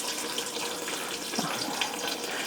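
Hot bone broth pours steadily into a pot over a kitchen sink, a continuous liquid rush with a few splashy gurgles near the middle, fairly close and without voices.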